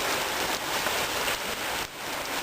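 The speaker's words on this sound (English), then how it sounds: "It's your first big rainstorm." Heavy rain pours down during a big rainstorm, a dense, even hiss of drops striking surfaces close by with no voices.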